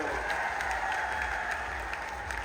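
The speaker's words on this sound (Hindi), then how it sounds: "एक बार मोहनलाल बड़ौली जी के लिए भी जोरदार तालियां।" Crowd applauding at a political rally in Jind, steady rapid clapping from a large audience heard at moderate distance, continuous through the short stretch.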